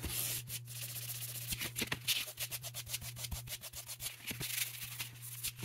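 Fine steel wool rubbing boiled linseed oil into the wooden handguard of a 1918 Carcano rifle, a soft, steady scratchy back-and-forth stroking heard close and quiet with no talking.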